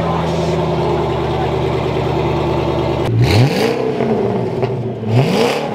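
A supercar engine, a GT, idles with a deep steady rumble before two sharp, loud revs flare up and fall back, close by, with brief voices.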